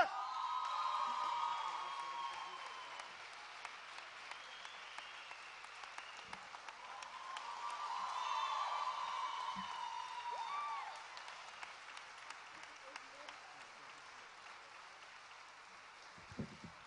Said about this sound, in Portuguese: uma grande salva de palmas para a Catarina!